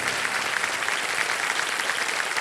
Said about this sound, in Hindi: तालियां बज रहे हैं धन्यवाद